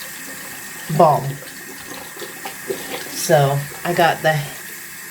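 Tap water runs into a bathroom sink as a steady, soft rush under a woman's speech, close by and continuous throughout.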